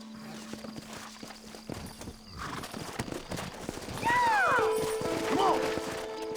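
Horses in Red Dead Redemption clop along, and later a loud whinny rises over them. The hooves sound moderate and nearby, and there is a faint voice in the first half.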